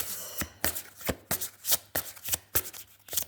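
A deck of cards is shuffled up close, with a series of quick crisp riffles and snaps in an uneven rhythm, fairly quiet and with no voices.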